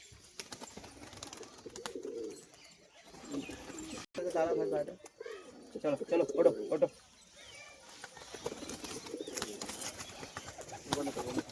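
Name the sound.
pigeons cooing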